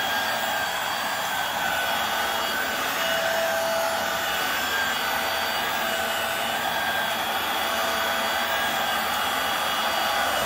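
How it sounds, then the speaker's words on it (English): A Hoover WindTunnel Air Steerable upright vacuum (UH72400) runs with its brush roll engaged, a loud steady motor whine and airflow roar that holds unbroken from start to end. "the brush roller is turned on, so it will turn on the brush roll"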